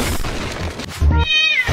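In an animated cartoon, a cat lets out a short, wavering meow over loud, busy background sound and music near the end of the moment.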